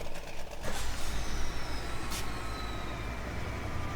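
Truck engine in Farming Simulator 17 rumbling steadily up close, a low continuous drone with a brief hiss near the start and a faint high whine, heard alone.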